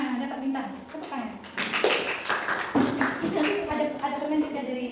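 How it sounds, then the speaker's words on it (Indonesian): Children in an elementary classroom clap together for classmates who earned a star, a steady patter of hands mixed with the teacher's talk and kids' voices. "nah, dapat bintang. Tepuk tangan."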